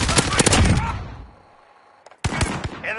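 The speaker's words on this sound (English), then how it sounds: "Friendly sentry gun online" A sentry gun in a shooter video game lets off rapid bursts of automatic fire, loud and close, with a short quiet gap before another sharp volley.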